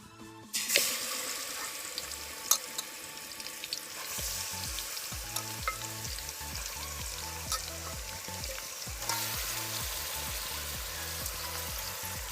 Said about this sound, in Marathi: गरम झालेलं आहे मिक्स केलेलं चिकन आपण तेलामध्ये टाकू